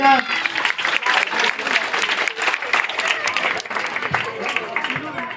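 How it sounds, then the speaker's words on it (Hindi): Sustained, loud audience applause at a school Grandparents' Day celebration, greeting a grandfather who won a game; dense clapping carries steadily throughout with crowd noise and voices mixed in. "तो जोरदार तालियां बेटा।"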